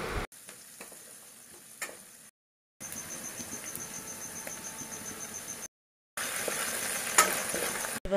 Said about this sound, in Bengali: পেঁয়াজ কুচানো দিয়ে একটুখানি ভাজা ভাজা করে নিচ্ছি।